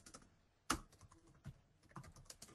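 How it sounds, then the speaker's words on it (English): Keys clatter on a computer keyboard in an office software demo, a burst of quiet, irregular taps with one sharper strike near the start, heard close and alone without talk. "You can start typing in comments."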